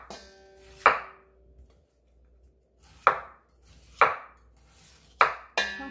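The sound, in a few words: knife chopping Korean radish coarsely for seokbakji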